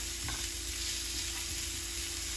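Onion frying in cooking oil gives a dense, continuous sizzle with a few faint stirring scrapes, close and steady throughout with no voices.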